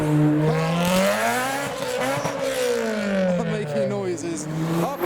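A car spinning its tyres at a car meet, with a loud, sustained tyre squeal that wavers in pitch over roaring engine revs, close by and continuous. A voice talks over it.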